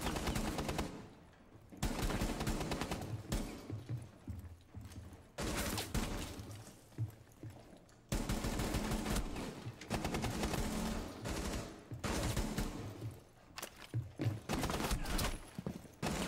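Gunfire in a video game comes as long, loud rattling bursts that repeat through the whole stretch, with brief gaps between volleys.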